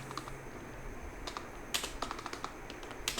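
Keys on a computer keyboard being typed in short irregular bursts, fairly faint and steady, with no voices over it.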